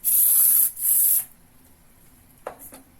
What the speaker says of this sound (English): It's volume matte and texturizing spray.